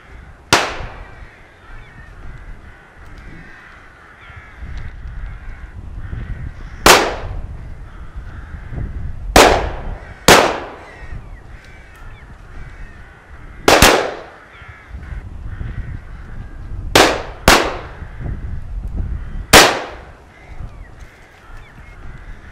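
Shotgun blasts at rooks outside a wood ring out seven times at irregular intervals, each a loud, sharp crack with a short echo, while crows caw steadily in the background.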